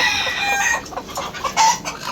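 Chickens cluck and squawk in short bursts close by on a rooftop, with a rooster-like call mixed in, several birds overlapping.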